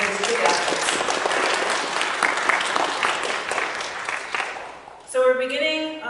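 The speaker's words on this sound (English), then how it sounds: "We're going to give everybody here a round of applause for all these big efforts." Audience at a school awards ceremony at St. Michael's School applauds in a dense, full round of clapping that carries for several seconds, then breaks off as another sound briefly cuts in at the end.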